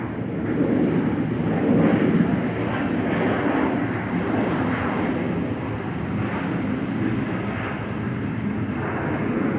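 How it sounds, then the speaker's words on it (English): A jet airliner touches down at San Francisco airport, its engines a broad, steady roar heard from a distance and holding loud and even throughout. "Just beautiful, smooth touchdowns, and everyone stays happy."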